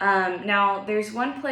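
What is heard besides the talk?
None of the usual background noises is heard.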